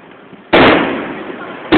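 Two loud fireworks bangs at Hythe go off about a second apart, each a sharp burst with a crackling, decaying tail, over faint background voices.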